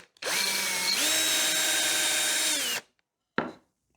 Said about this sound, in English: drill a couple of holes and get it ready for mounting